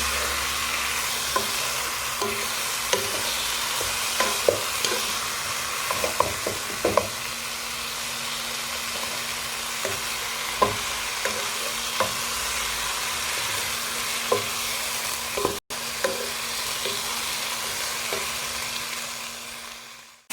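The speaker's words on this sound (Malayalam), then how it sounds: "എല്ലാം കൂടി നമുക്കൊന്ന് ഒരു മിനിറ്റ് ഒന്ന് ഇളക്കിയെടുക്കാം." A chicken rice mixture with mint leaves sizzles in a pan, with steady frying hiss and repeated scraping, clattering stirs close up that go on for about twenty seconds.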